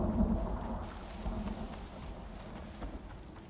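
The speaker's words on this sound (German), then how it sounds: "Jetzt kommt da noch Unwetter." An approaching thunderstorm in the video game Icarus: low distant rumbling with steady rain-like patter, faint and continuous, with no talking.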